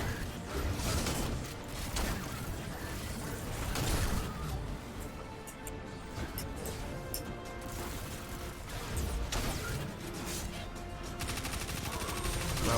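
A shotgun fires in a Destiny 2 match, with several sharp blasts spread through a busy wash of game effects and gunfire, fairly quiet overall.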